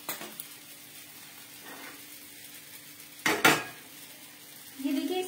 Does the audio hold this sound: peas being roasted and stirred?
yes